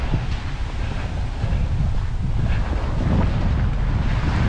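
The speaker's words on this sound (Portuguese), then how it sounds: "O vento continua contra" Strong wind buffets a walker's microphone on a beach between Comporta and Tróia, a steady loud rumbling roar with surf-like wash throughout.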